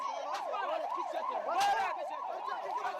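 A fire engine siren wails as firefighters arrive at an explosion scene, a repeating rising-and-falling tone sounding moderately distant over a noisy street.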